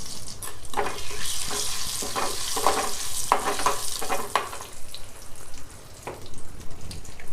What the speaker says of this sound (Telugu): ఎండుమిర్చి కొంచెం వేగాక తాలింపు గింజలు వేసుకోవాలి